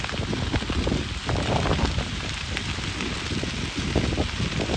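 A burning dry field in Gambia, Africa, giving a dense, continuous crackle and hiss of fire with a low rumbling roar underneath, loud and close throughout with no voices.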